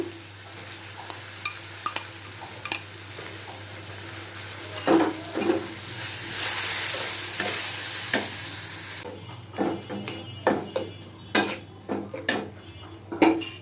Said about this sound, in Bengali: রসুন কুচি হালকা বাদামি হলে পরে আমরা ছোলাগুলো দিয়ে দিচ্ছি